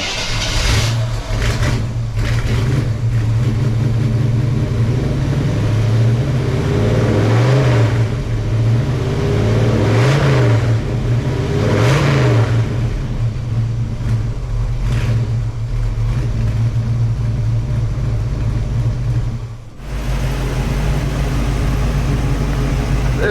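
A 1933 Ford Victoria with a 350 engine on a test drive gives a steady, loud engine drone with rising and falling revs under road noise, broken by a brief dip near the end.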